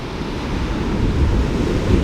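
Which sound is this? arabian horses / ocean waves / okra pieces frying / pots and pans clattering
ocean waves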